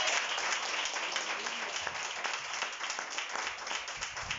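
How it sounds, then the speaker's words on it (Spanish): A church congregation claps loudly and steadily in a dense, continuous round of applause lasting several seconds, with voices mixed into the crowd noise. "Dale un aplauso fuerte al Señor."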